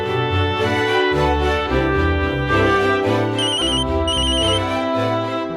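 A phone's ringtone announces an incoming call, a loud looping electronic melody with a bright repeating chime layered over a bass line, playing alone for several seconds.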